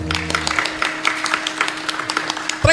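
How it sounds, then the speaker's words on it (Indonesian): A crowd at a wayang kulit shadow puppet performance in Trenggalek breaks into applause, a dense patter of many hands clapping that runs steadily and ends with a loud thump. "tepuk tangan untuk Trenggalek"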